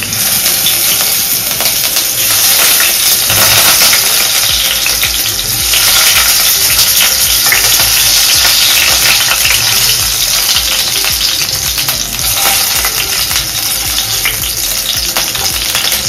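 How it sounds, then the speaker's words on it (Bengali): Potatoes fry in hot oil in a loud, continuous sizzle with a bright hissing crackle that stays steady throughout, and occasional stirring scrapes underneath. "এবার আলুগুলো দিয়ে দেব। তেলটা গরম হয়ে গেছে,"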